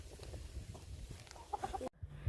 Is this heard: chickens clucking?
yes